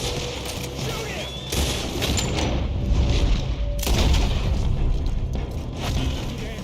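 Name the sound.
gunfire in the video game Red Dead Redemption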